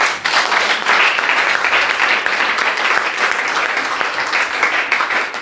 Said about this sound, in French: Applaudissez pour vous-même alors.